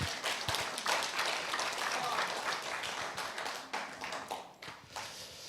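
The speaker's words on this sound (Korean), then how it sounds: "우리 격려의 박수 한번 부탁드립니다." An audience at a Thursday philosophy humanities forum in Korea claps in encouragement, scattered hands building into a steady round of applause that thins out, with a faint voice in the background.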